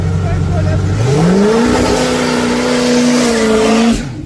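A car on a drag strip pass accelerates hard: a loud engine note climbs quickly in pitch, then holds a strained, steady roar before cutting off abruptly.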